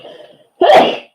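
A single sharp, loud sneeze bursts out close by, preceded by a soft murmur.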